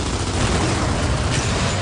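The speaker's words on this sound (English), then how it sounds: "Incoming frag!" A frag grenade explodes in Gears of War 2 multiplayer, a loud, dense blast of broadband noise that fills the whole short moment.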